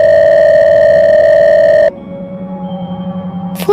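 A phone rings in a horror story: a loud steady electronic tone holds for about two seconds, then cuts to a quieter pulsing hum, ending in a sharp burst.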